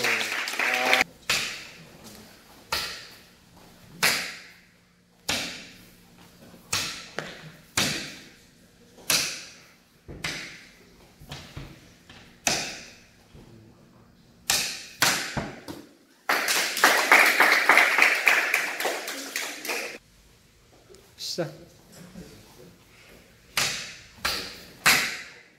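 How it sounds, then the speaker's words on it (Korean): Taekwondo students' domino side-kick drill: a run of sharp thumps and taps, then a dense burst of group applause and clapping lasting a few seconds, followed by more scattered thuds. "박수."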